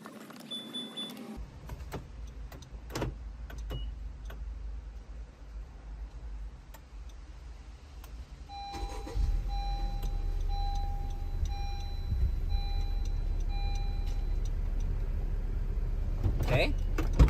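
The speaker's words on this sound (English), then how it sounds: "I'll remote start it and then show you guys" A car is remote started with its key fob outdoors, with faint ticks and a click before the engine catches around nine seconds in and settles into a steady low idle rumble, with a soft whine above it.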